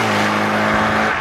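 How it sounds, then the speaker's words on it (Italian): An Autobianchi A112 Abarth with its 70 hp 1050 engine revving hard while driving, a loud, steady engine drone with strong low harmonics and a faint hint of tire noise throughout. "Ma che violenza ha questa macchina con un 1050, è incredibile."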